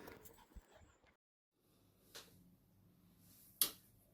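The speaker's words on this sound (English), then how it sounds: "As you can hear, there's a dog barking." A dog barks faintly and far off during a cold outdoor walk with dogs, giving a couple of brief, distant yelps amid quiet ambient noise.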